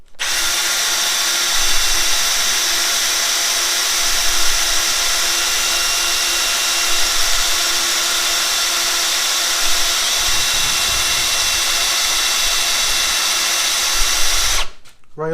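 Cordless drill drivers, a Ryobi 18V brushless and a Hercules 20V, boring into wood with a steady, loud whine that runs almost without a break for about fifteen seconds and then stops abruptly.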